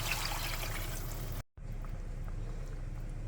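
Water poured into a pan of sautéed masala for spicy vermicelli, a steady close splashing pour that cuts off briefly and then resumes as a softer trickle.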